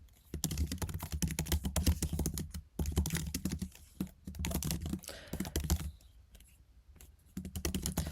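Typing on a MacBook keyboard while entering a git config command: rapid, close, soft key clicks in irregular bursts, pausing briefly now and then, with no voice.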